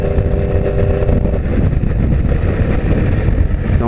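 Yamaha R1 motorcycle with a full exhaust and no catalytic converter, its engine droning loud and steady at close range for the whole stretch, with some wind rumble and no talking.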